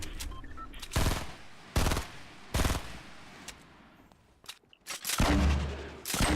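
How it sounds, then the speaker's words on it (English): Fortnite burst rifle gunfire crackles in several sharp separate bursts, loud and close, with short pauses of quieter game noise between them and a longer burst near the end. "Shooting his structure. Not the best idea with a burst rifle."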